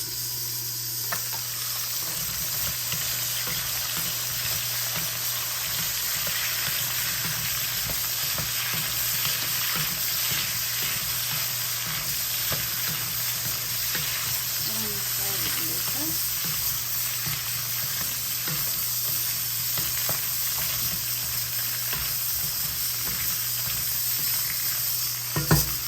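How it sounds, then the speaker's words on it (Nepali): Steady, close sizzle of food frying in oil in a covered pan, a continuous hiss with faint crackles and a low hum underneath, unbroken for the whole stretch. "अब यसलाई फ्राई हुन दिने मैले चाहिँ ओइलमै पकाइरहेको छु तर छोपेर पकाइरहेको छु"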